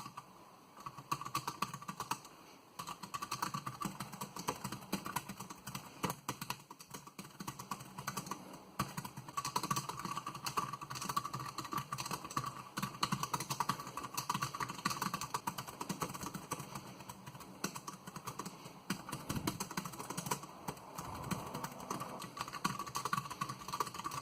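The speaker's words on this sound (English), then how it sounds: "let me type on each of this, and you'll hear the difference there as well" Steady, continuous typing on TeckNet and JETech computer keyboards, dense key clicks in a fast rhythm throughout, close and fairly loud with no talking.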